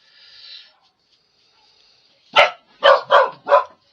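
A dog in a home where sugar flowers are being made gives four sharp, loud barks close by, after a faint high whine at the start, with short even gaps between barks.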